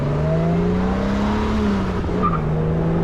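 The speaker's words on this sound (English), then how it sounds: "1966 E-Type Jag. It doesn't get any better than this. It sounds really good." A 1966 Jaguar E-Type roadster with a 4.2 litre inline six drives along, its engine a steady close, moderately loud drone whose pitch drifts gently up and down as it runs, with no talk over it.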